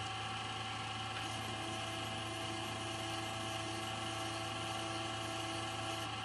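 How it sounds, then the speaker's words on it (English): A stepper motor on a RepRap electronics board, driven by an Arduino, runs with a steady, continuous whine and hum that stays even throughout. "We've got an Arduino sending commands to the stepper motor board, which then powers up the stepper motor."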